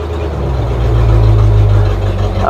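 A car engine idles loudly and steadily up close, with a low, even rumble and no voices.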